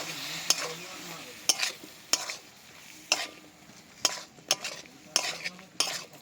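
Mushrooms stir-fry slowly over low heat, a soft sizzle broken by about nine evenly spaced scrapes and clinks of a spatula against the pan, close by, with no talking.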